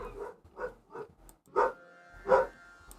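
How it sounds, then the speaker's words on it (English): A dog barks repeatedly in the background, several short loud yaps in an uneven rhythm, with no talking over it. "my dog is being very loud"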